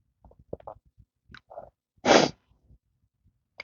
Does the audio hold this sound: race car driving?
no